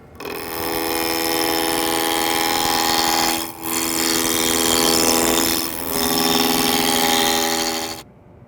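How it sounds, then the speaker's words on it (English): Wood lathe roughing a candlestick blank down to a cylinder about 2 1/4 inches in diameter: a steady, loud whirring drone with a ringing tonal hum, dipping briefly twice as the gouge lifts, then stopping abruptly near the end. "Now rough this down to a cylinder about 2 1/4 inches in diameter."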